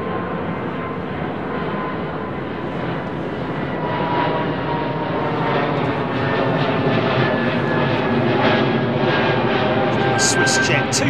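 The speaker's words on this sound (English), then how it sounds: "Swiss jet, 2 Swiss jets in a row." A Swiss jet airliner departs London Heathrow runway 09R, a loud, steady engine roar that builds and holds across the whole stretch, with someone talking over it.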